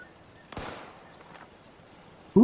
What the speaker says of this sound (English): Who is shooting? Someone is shooting, though.